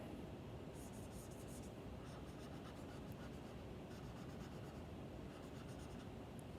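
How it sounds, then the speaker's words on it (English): A marker or pen scratches out a tiara on a picture, making faint, quick scribbling strokes in short bursts over a steady background hiss. "we've got to draw a tiara on her"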